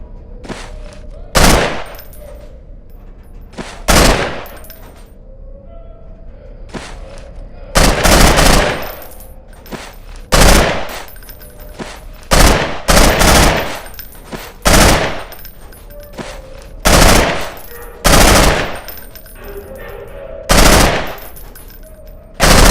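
Gunfire at pop-up targets in the video game UnderHell, loud repeated bursts of shots in uneven clusters separated by short pauses, close and dominant throughout.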